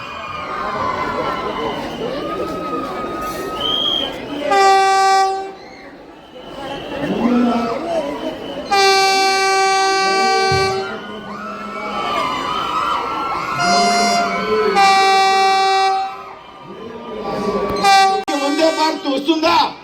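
Vande Bharat Express arriving on its inaugural run at Narasapuram, with a dense crowd on the platform and tracks, sounds its horn in several long, loud tonal blasts over constant crowd chatter and shouting.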